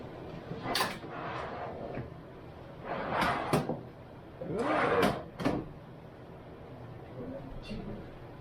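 Wooden drawer on newly installed drawer slides, pushed and pulled several times in a row, each slide a short rumbling whoosh with light knocks, fairly close, with brief talk between runs.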